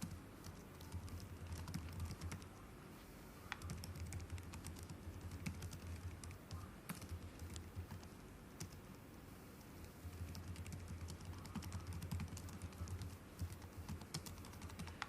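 Typing on a computer keyboard while entering text into a Word document, rapid uneven clicking of keys in bursts over a low background hum, fairly quiet and close.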